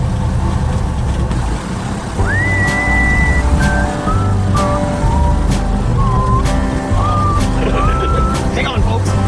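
A 1961 Studebaker Champ truck, high geared, pulls away as the clutch is slowly let out, its engine rumbling steadily up close under a chirping whistle-like squeal and background noise, with people talking nearby.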